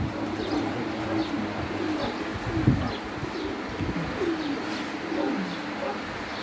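Pigeons from a rooftop loft coo repeatedly in soft, rolling low calls, several birds overlapping at close range with faint chirps and brief wing flutters in the background.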